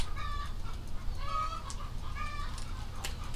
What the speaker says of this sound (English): Them freaking chickens are all over it today.